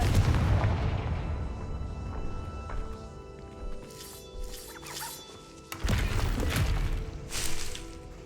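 Fire spell explosions in the Hogwarts Legacy video game: a heavy booming blast at the start, then further crackling bursts and debris crashes rising and fading over a low rumbling game background.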